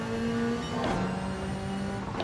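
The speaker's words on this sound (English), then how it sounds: "This car sounds amazing, the Supra." A Toyota Supra in Gran Turismo 7 drives at speed, its engine note holding a steady tone, then dropping through a quick gear shift before climbing again.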